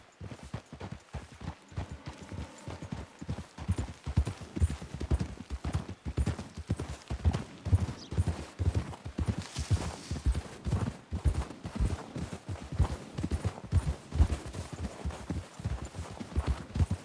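Horses walk at a steady pace in the video game Red Dead Redemption 2, hooves clip-clopping in a regular rhythm throughout, fairly close, with a few faint background sounds.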